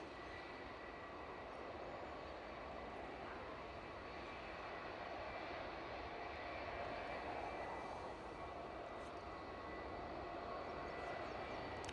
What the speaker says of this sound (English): Right, another ATR.